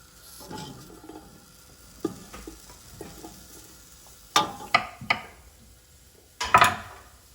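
Sausage cooks in a pan with butter, giving a faint low sizzle broken by sharp scraping and stirring clatters of a utensil against the pan.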